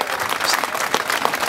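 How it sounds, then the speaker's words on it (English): Brief burst of applause from an outdoor audience at Watts Towers in Los Angeles, many hands clapping densely and fairly close, a continuous patter with no talking over it. "Let's give them a round of applause."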